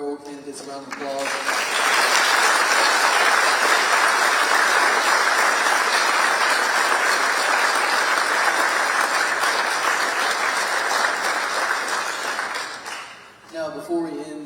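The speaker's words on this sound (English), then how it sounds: "Can we please give both of our mayoral candidates a round of applause?" Sustained audience applause for two mayoral candidates at a high school forum: a thick, loud wall of clapping lasting over ten seconds before it tapers off, with a voice briefly heard at the start and end.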